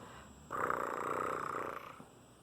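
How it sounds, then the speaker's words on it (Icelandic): A small house cat purrs in a steady, soft rumbling run of about a second and a half, close and alone. "Og svo malar hún stundum líka"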